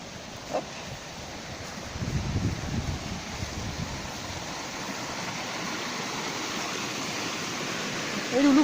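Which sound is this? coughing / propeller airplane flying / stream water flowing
stream water flowing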